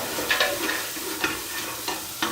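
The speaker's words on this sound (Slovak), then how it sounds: "Na masle si oprážime zeleninu, najprv si oprážime tú mrkvu" Carrot sautéed in butter gives a soft, continuous sizzle, with several light scrapes and clinks of a utensil stirring the vegetables, heard up close with no talking.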